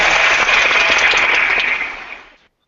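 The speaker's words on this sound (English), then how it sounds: "Oh, you get hand claps." A small group applauds after someone shares a drawing in a casual group activity, giving a dense, close burst of hand claps that holds steady for about two seconds and then quickly dies away, with no talking over it.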